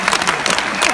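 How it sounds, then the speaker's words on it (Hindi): Applause from an audience at a Hindi comic poetry gathering, a dense burst of clapping that fills the short moment at steady loudness. "एक बार तालियां बजा दें दोस्तों।"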